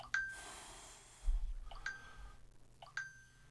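A phone's notification chimes go off three times at roughly one-second intervals, each a short bright ding, close by over faint background noise and breathing.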